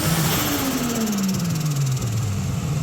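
A Nissan Skyline R31 drift car with an RB30 engine that sounds badly hurt, producing a steady, close engine drone whose pitch slowly sinks, with no voices.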